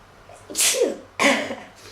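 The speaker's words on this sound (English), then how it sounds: "I need to sneeze." Two sneezes close together: a breathy one followed by a sharper, louder burst, with quiet in between.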